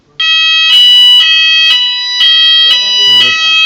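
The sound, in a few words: fire alarm sounding during smoke detector test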